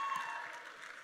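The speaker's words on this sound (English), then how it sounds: "A round of applause." Graduation ceremony crowd applauding, a brief, faint wash of distant clapping from a large hall audience.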